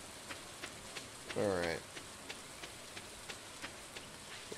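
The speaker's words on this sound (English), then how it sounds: "I'm probably the only one out and about in the rain." Rain falls in the farming video game Stardew Valley as a steady soft hiss with light, regular ticking. A voice speaks briefly partway through.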